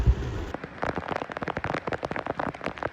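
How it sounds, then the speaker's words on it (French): Heavy rain drums on a racing sailboat drifting in the Doldrums, a dense crackling patter of drops hitting deck and gear, close and continuous after a brief low thump at the start. "On dérive comme on peut dans la molle et dans la pluie, là, sous la pluie."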